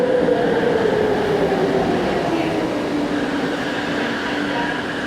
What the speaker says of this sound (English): My train is coming.